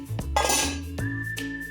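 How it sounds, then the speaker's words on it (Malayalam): Metal utensil clanks and scrapes against a cooking pan while prawns are stirred, a few distinct ringing knocks in quick succession, close and clear. "കൊഞ്ച് ഇട്ട് ഇനി അതിട്ട് ഒന്ന് വഴറ്റാം. ഒന്ന് ഇളക്കി കൊടുക്കാം."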